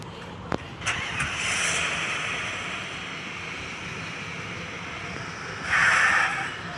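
A vehicle engine in a video game starts up and runs steadily, with a sharp click at the start and a louder surge of engine noise near the end.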